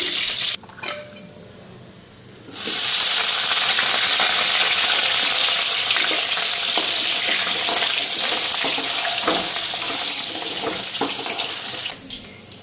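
Egg sizzling and frying in a pan with spices, a loud steady hiss that bursts in after a quiet start and holds at full strength before easing off near the end.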